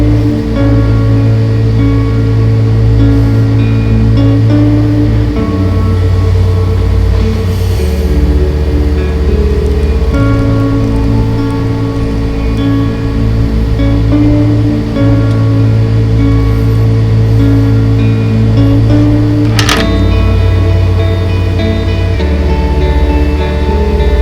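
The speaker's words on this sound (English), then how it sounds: "Reducing water level, draining it" Water drains from a tank being lowered from about 20 to 16 inches during pressure transmitter calibration, a steady loud rushing flow over a constant machine-like hum with no pauses.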